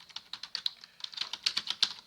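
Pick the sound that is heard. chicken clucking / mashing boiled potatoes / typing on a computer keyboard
typing on a computer keyboard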